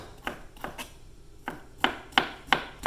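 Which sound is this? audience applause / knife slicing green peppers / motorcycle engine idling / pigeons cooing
knife slicing green peppers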